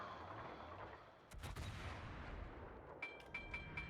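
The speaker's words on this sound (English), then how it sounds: "And here comes some shells." Incoming naval shells exploding around a Myōkō heavy cruiser in World of Warships, a quiet run of sharp cracks and booms over steady engine and sea rumble, ending in a quick cluster of impacts.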